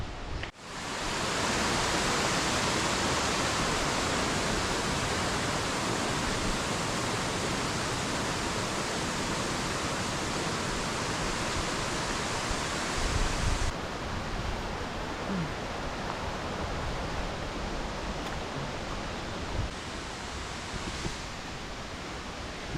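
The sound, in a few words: waterfall, water falling among trees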